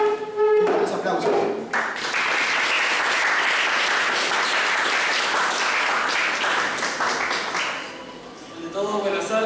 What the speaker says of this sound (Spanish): Unos aplausos.